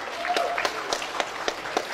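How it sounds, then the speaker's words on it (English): An audience at a campus event gives brief, sparse applause, with individual claps spaced out rather than a full, dense ovation. "Let's give a big round of applause for Ms. Aumi Anggreni."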